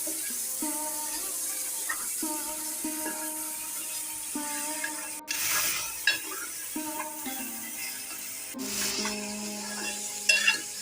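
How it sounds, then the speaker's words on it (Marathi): Mutton frying in a pan for spicy Malvani mutton sukka, a continuous sizzle with stirring scrapes and clinks, steady and close, under faint background music tones. "मटण पण चांगला ना फ्राय करूया आपण अशा चांगला फ्राय करून घ्यायचा आहे"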